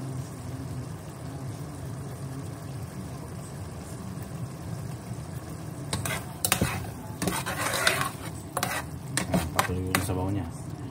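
Carrots added to a simmering pot of ground pork picadillo: a low bubbling sizzle gives way to several sharp clattering stirs and scrapes of a utensil against the pan, close and fairly loud.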